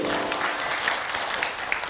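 A studio audience at a televised debate show breaks into warm applause, a continuous crackle of many hands at moderate volume that holds steady from start to finish.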